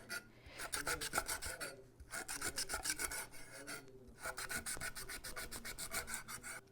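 A sharp knife thinly slices a lemongrass stalk on a board, giving fast, rhythmic crisp cuts in close, steady bursts with short pauses between them.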